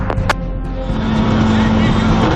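A rallycross car with a troublesome gearbox roars at full revs near 6,000 RPM for a race launch at X Games Austin 2014, a loud, steady engine note that fills the whole clip, with a voice talking over it.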